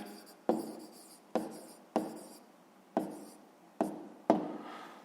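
A pen writes on paper in six distinct strokes at regular intervals, each starting with a sharp scratch and trailing off, close and clear with no talking.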